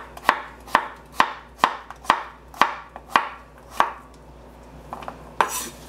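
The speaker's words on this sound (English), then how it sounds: "this is an English cucumber that I'm cutting up" A knife slices an English cucumber on a cutting board with about ten crisp, evenly spaced chops, close and clear, followed by a short pause and a final softer cut, with no talking.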